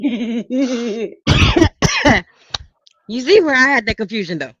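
A single sharp sneeze bursts out during a podcast conversation, set between stretches of speech from the people talking.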